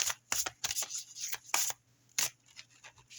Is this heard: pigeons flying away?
no